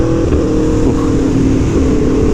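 An Aprilia Tuono V4 Factory motorcycle engine drones loud and steady, with a continuous low rumble and slight pitch shifts as it holds speed, and no voices.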